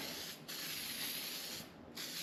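A Sherwin-Williams spray paint can hisses steadily and close by while a planer table casting and sprocket housing are being painted, the spray dipping briefly twice as the stiff button is released.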